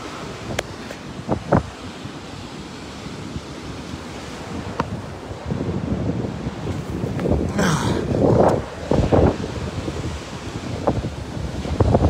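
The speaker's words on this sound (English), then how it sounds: "Love hearing the ocean waves" Ocean waves wash against the sea wall at Chatan, Okinawa, a low rolling surf under gusty wind buffeting the microphone, with occasional louder splashes and bursts.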